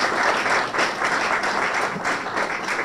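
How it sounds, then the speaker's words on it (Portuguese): Audience at a flag handover ceremony for a senior women's handball team giving loud, sustained applause, a thick, continuous roar of clapping close by. "Enquanto isso, uma forte salva de palmas,"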